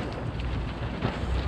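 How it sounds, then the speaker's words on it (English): Wind gusts steadily against the microphone at an RV campsite, a low continuous rumble with no voices. "It is quite windy here."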